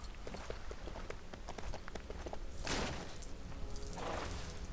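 A horse in the LEGO Lord of the Rings video game trots, with light, quick hoof taps under rustling game ambience. Two brief, brighter bursts rise midway and near the end.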